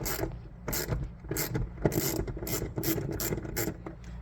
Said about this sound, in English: Now we're gonna remove our 7mm fasteners.